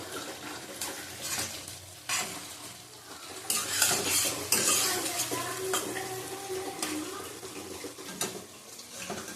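Fish curry with eggplant stirred in a frying pan with a metal spoon, scraping and clinking against the pan over a low sizzle, with louder bursts of stirring in the middle, close by and without speech.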